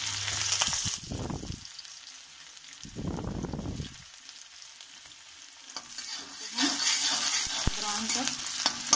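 Finely chopped onion frying in oil and being stirred until brown, a steady sizzle with scraping strokes that grows fuller and louder toward the end, close and without talk.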